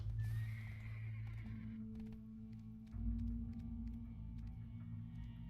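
A horse gives a long whinny in the game Black Desert, near the start, over a low steady droning hum, followed by faint rhythmic clip-clop hoofbeats.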